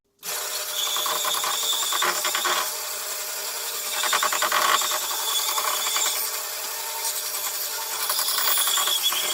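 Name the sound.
bandsaw cutting around wooden bowl blank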